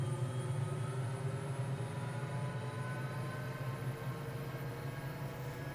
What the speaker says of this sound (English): Bring our rotor RPM up.